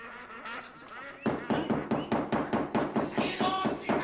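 A chorus of ducks quacks in a rapid, steady series of loud calls, close and continuous after a quieter start.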